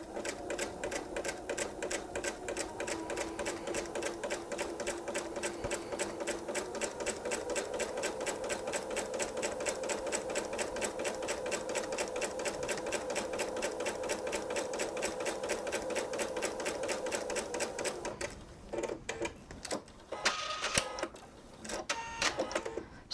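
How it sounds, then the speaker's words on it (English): A sewing machine stitches quilt fabric strips in a fast, steady, close mechanical chatter that runs for most of the stretch, then breaks into a few shorter bursts and handling noises near the end. "we're going to sew from outside corner to outside corner."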